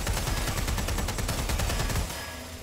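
Rapid video game gunfire in Watch Dogs Legion, aimed at a boss's weak points: a dense, loud burst of automatic shots that thins and fades near the end.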